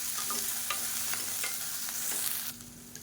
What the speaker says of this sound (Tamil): இதை சேர்த்துக்கலாம் இப்போ நல்லா வதக்கி எடுத்துக்கலாம்